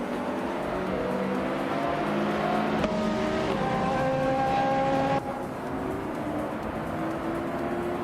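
Race cars, including a 2009 BMW Z4, roar around Hidden Valley Raceway, a loud steady engine drone with rising and falling revs as the pack passes, engine tones climbing sharply midway before easing off.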